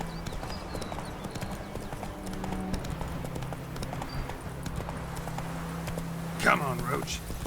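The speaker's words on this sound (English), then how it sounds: "Not so fast, Roach. Slow now. Whoa" A horse's hooves clip-clop at a steady walking pace in The Witcher video game, close and rhythmic over a low background hum, with a brief bright chime near the end and game speech around it.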